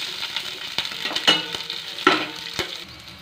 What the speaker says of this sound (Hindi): देखिए तेल गर्म हो चुका है, इसमें मिर्च डाल देंगे